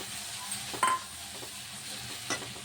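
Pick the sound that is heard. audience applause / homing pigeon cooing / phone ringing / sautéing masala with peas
sautéing masala with peas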